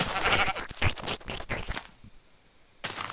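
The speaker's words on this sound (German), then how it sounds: "Schaf." Sheep bleating in a video game, a few wavering bleats up close in quick succession, then a short quiet gap before another bleat begins.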